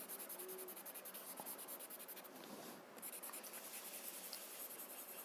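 Blue colour is rubbed and blended into paper while drawing a Zentangle, giving close, rhythmic scratchy strokes that are quiet and repeat steadily, with a brief pause in the middle.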